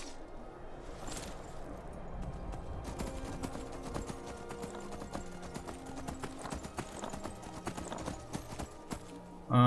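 Horse hooves clip-clopping in the video game Skyrim, a steady run of rhythmic hoof strikes at moderate loudness with no talk over them.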